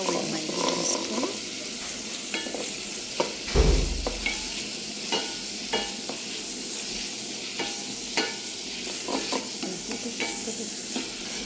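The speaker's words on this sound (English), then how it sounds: "So I'm using a lot of oil as I stir with my wooden spoon." Onions fry in plenty of oil while a wooden spoon stirs them, a constant soft sizzle with occasional scraping knocks of the spoon against the pan, close and without talk.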